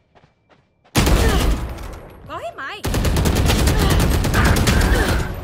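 Rapid bursts of Valorant gunfire crackle loudly and continuously during a competitive match, with shouted speech in between and a short pause before the shooting resumes.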